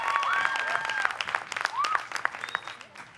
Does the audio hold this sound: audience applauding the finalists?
yes